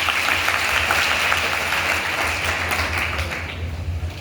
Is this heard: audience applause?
yes